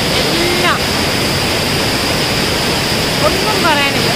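Blappila waterfall in Konni roars steadily and loudly, its rushing water forming a dense, unbroken wash of sound with a few faint bird calls on top.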